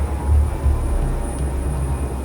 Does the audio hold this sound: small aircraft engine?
yes